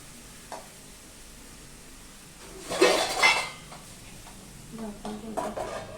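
A lid is set down on a pot of simmering usal, a sprouted-legume curry, giving a brief cluster of metallic clanks and clatter mid-clip amid quieter kitchen clinks and soft background noise.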